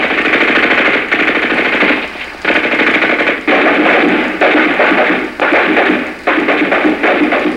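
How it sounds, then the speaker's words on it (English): Machine gun fire during a night attack on an enemy position, rendered in a vintage US Army training film: loud, sustained automatic bursts, roughly seven of them with short gaps between, filling the whole stretch without any speech. "As the platoon approaches the enemy position, it is taken under effective enemy fire."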